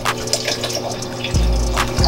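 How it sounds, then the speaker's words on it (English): Crystal Geyser bottled water pours into a blender jar for passion fruit juice, a steady, moderately quiet trickle and splash that grows fuller and louder toward the end. "we're gonna add some water to it, crystal geyser"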